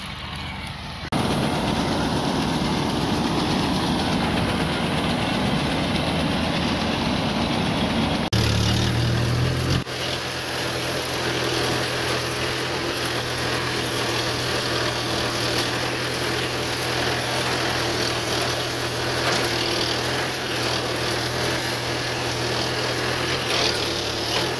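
A Mahindra 575 tractor engine runs steadily at idle in a wheat field, a continuous close diesel drone that shifts to a lower, heavier throb partway through and holds there.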